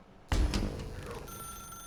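A telephone starts ringing abruptly in the video game The Stanley Parable, with a bright, sustained electronic ring that decays and carries on at moderate volume.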